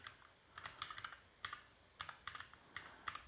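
Quiet keystrokes on a computer keyboard while entering account details, coming in short irregular bursts of clicks with brief pauses between them, close and soft, no voices.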